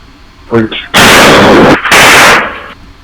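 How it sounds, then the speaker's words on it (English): A police officer's gunshot fired right after a door breach hits as loud, harsh bursts that swamp everything, preceded by a brief voice. "you actually hear the gunshot of the officer who shot right after the breach"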